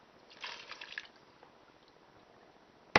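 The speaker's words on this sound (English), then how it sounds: "You're going to put in about 3 cups of low sodium chicken broth." Low-sodium chicken broth pours briefly into a soup pot, a short, soft splashing burst that fades to quiet before a small clink at the end.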